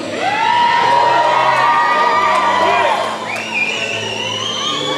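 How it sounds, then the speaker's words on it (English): Loud crowd at a women's roller derby bout cheers, whoops and yells steadily for about five seconds, with some shouted voices rising above the noise. "Let's hear it, ladies and gentlemen. Cheer them on."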